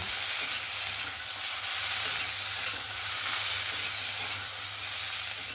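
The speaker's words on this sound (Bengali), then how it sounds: "আর আমি এখানে দেবো কিছুটা পরিমাণ নারকেল, কাজু বাদাম দিয়ে এগুলোকে ভালো করে একটু ভেজে নেব" Coconut and cashew nuts fry in a pan for a chicken dish, giving a steady broadband sizzle with soft stirring under a low continuous hum, and no one talking.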